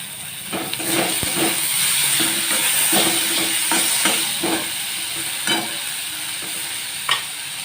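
Chopped tomato with green chillies and ginger-garlic paste fries in a pan for ghugni, a steady close sizzle broken by repeated scrapes and clacks of a stirring spoon, with no talking.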